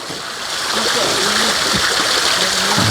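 Water flows and splashes steadily and loudly, a continuous rushing wash that swells after the first half-second, with faint low sounds mixed in.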